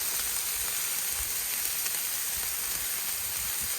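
Chicken and shrimp fajitas sizzle on a Blackstone griddle, a dense, steady hiss of frying that carries on unbroken and fairly close, with no talking over it.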